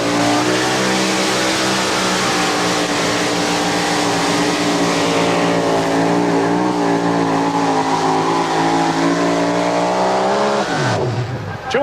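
A two-wheel-drive pulling truck roars at sustained full throttle during an NTPA truck pull, a loud, continuous high-revving engine drone that holds steady for several seconds before abruptly cutting off.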